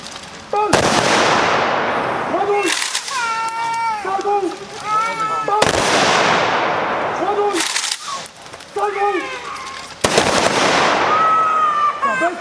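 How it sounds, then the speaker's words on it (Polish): A ceremonial rifle salute fired at a commemoration of the 86th anniversary of the outbreak of World War II and the defence of Modlin Fortress. Loud, sharp volleys ring out several times at intervals of about five seconds, with shouted commands between them. "Salwa honorowa! Salwa!"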